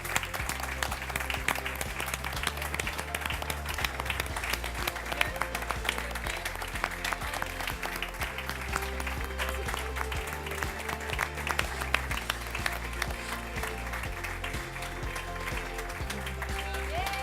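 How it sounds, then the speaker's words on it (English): Sustained, dense applause from a large audience at the Airbus Fly Your Ideas 2017 award ceremony, steady and loud with crowd noise throughout, with a few voices faintly mixed into the clapping. "a round of applause for everyone"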